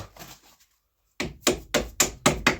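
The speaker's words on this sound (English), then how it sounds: "if you get a hammer, you can push the" A hammer taps a bolt out of the front shock mount on a 1987–2000 Toyota Camry 2.2, giving five sharp, evenly spaced metallic strikes up close after a brief pause.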